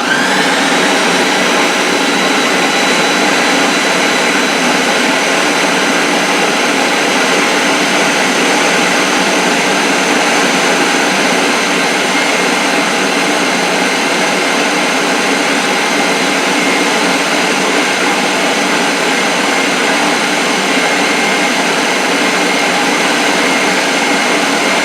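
An electric mixer whipping mashed potatoes runs as a loud, steady whirring drone that keeps an even pitch for the whole stretch, close and uninterrupted.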